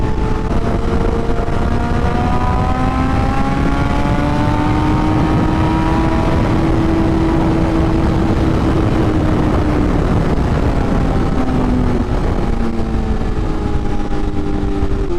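A BMW S1000RR sportbike cruising fast on a highway, its engine droning loud and steady with slowly shifting harmonic pitch and constant wind rush throughout, no voices.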